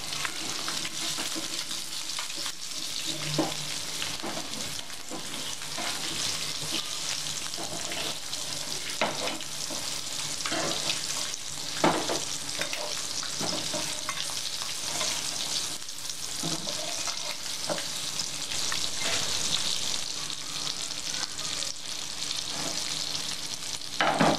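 Eggs frying in oil in a pan after being flipped, a steady, loud, close hiss of sizzling throughout with occasional small crackles and pops.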